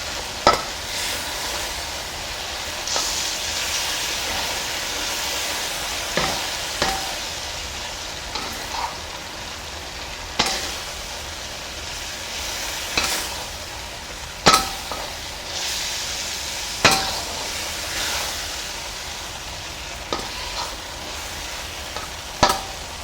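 Beef stir-frying in a pan before the broccoli goes in: a continuous hissing sizzle with regular sharp scrapes and taps of a utensil against the pan.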